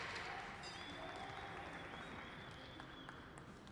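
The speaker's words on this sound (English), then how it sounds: "let's give them a round of applause for finishing that piece" Audience applause at a museum glassblowing demonstration as the glassblowers finish a piece, steady dense clapping from a crowd at moderate distance throughout.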